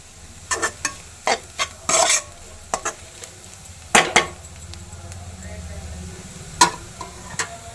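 Rice stirred and tossed in a pan for egg fried rice, with a run of irregular scraping, clattering stir strokes over a low sizzle, close and moderately loud, without talk.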